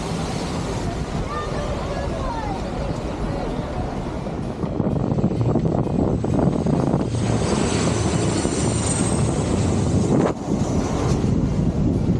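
A large passenger jet airliner roars past at St. Maarten, its engine rumble swelling and lingering, with gusty wind buffeting the microphone throughout.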